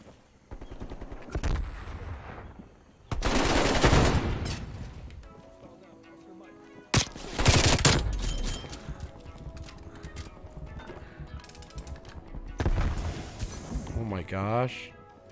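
Gunfire in Call of Duty Cold War: loud bursts of automatic fire in separate volleys, with quieter shots and game effects between them and a voice talking at moments.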